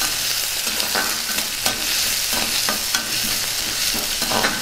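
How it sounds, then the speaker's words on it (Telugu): Onion pieces, green chillies and curry leaves fry in hot oil with a steady, close sizzle, broken by repeated scraping stirs of a spoon against the pan. "ఉల్లిపాయ ముక్కల్ని కాసేపు బాగా వేగనిద్దాం."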